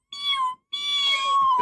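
Cat meows twice in a cartoon, two clear drawn-out cries separated by a short pause, the second longer and bending in pitch, close and fairly loud.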